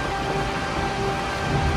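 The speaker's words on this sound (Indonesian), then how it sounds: "hujan deras uh liatin ada petir" Heavy rain pours steadily in a dense, continuous hiss, with a low rumble of thunder underneath.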